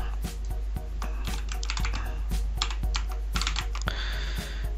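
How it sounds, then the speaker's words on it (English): A computer keyboard being typed on during a login, a rapid, irregular run of close crisp key clicks with short pauses between bursts, with no voices. "I will type as username admin, and I will type also"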